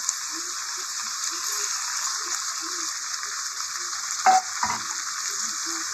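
Poppy seed paste added to a hot pan and frying for a potato, pointed gourd and prawn dish, a steady close sizzle with a brief louder clatter of stirring near the end.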